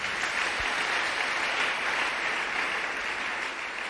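Church congregation applauding during a sermon, a dense, steady wash of clapping from many hands, fairly distant and even in level for several seconds, with no voices standing out.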